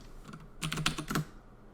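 Input typed on a computer keyboard while running a Java program in a programming tutorial: a short, quick cluster of close, sharp key taps after a moment of near quiet, with no talking.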